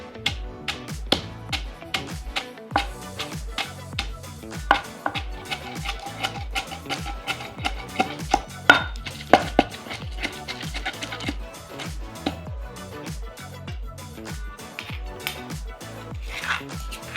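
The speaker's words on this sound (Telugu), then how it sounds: "బాగా మెత్తగా దంచుకోవాలండి." Ingredients for a carrot curd chutney are pounded finely, heard as repeated sharp, close knocks in a steady irregular rhythm that continues throughout, with no talk.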